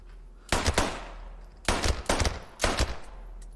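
A Thompson automatic rifle in the video game Post Scriptum rattles off three short bursts of rapid fire, close and loud, separated by brief pauses.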